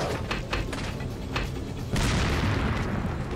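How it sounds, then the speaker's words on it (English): A dynamite blast in Resident Evil 4 booms loud and dense, a continuous heavy rumble with scattered pops, swelling into a bigger burst partway through, with no talk over it. "Is that dynamite?"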